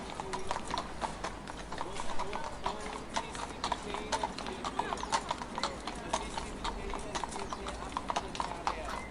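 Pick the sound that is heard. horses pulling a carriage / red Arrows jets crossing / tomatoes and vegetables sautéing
horses pulling a carriage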